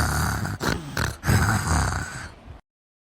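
A cartoon character snores while asleep, a few loud rasping, grunting breaths in uneven bursts that stop abruptly.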